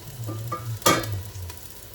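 Mexican rice being stirred in a hot pan, soft sizzling under scraping strokes of a spoon with one sharper clatter midway, close and fairly quiet.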